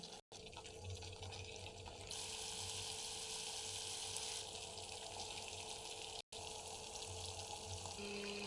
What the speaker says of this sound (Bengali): এবারে আমি এতে জল দিয়ে দিচ্ছি।